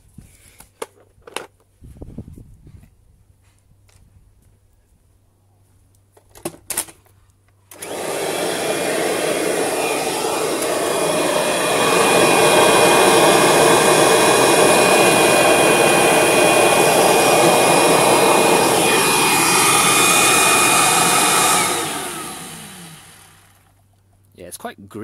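After a few clicks and handling knocks, a well-used, dusty second-hand vacuum cleaner switches on and runs with a loud, steady whooshing roar for about fifteen seconds, then winds down as it is turned off.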